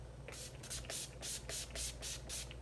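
Urban Decay All Nighter setting spray, the pollution protection version, mists onto a made-up face in a quick series of about eight rhythmic, breathy pump bursts, close and fairly soft, with no talking.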